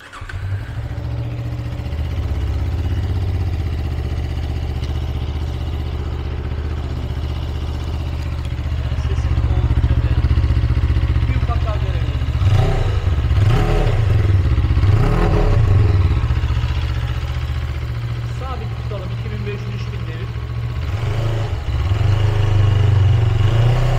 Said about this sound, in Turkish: Bir cold start yapalım. Sesine bakalım.